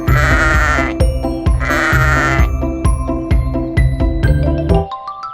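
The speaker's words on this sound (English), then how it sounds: "Look, here's a sheep. It goes baa, baa." A sheep bleats in repeated loud, close, wavering baa calls over a musical backing with a steady beat, ending on a bright chime.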